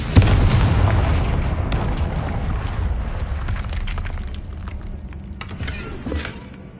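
A booming magical explosion from the Confringo spell in the video game Hogwarts Legacy bursts loudly, then its rumbling blast and crackling debris roll on and slowly fade over several seconds.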